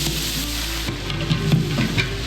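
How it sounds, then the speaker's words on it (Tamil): Ginger garlic paste hitting hot oil for a biryani, a close, continuous sizzle with light crackles and a few soft stirring knocks. "அதுக்கு அடுத்தது இஞ்சி பூண்டு சாந்து சேர்த்துக்கிறோம்."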